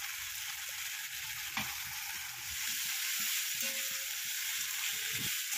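Whole cumin, cinnamon, cardamom, cloves and bay leaf with ground cumin, coriander, chili, ginger and salt frying in hot oil for a paneer curry: a steady close sizzle and hiss throughout, with a few soft stirring clicks.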